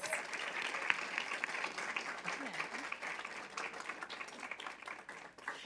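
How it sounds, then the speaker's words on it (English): A school board meeting audience gives sustained applause in a hall, a dense steady wash of clapping lasting the whole stretch with no talk over it. "One more round of applause for Mr."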